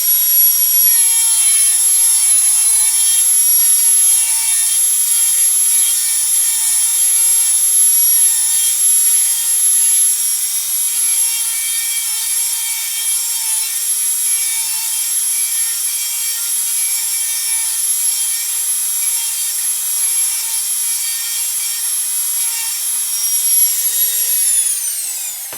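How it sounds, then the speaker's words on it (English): A high-speed rotary tool whines steadily as a small sanding disc grinds into a carved wooden ventriloquist dummy, loud and continuous, before spinning down at the end. "So I'm going to use this small sanding disc here"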